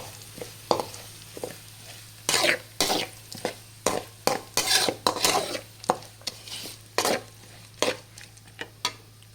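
Mango-ginger and garlic sautéed in oil in a pan for pickle: a rapid series of spoon scrapes and clinks against the metal over a light sizzle, close and fairly loud, with no talking.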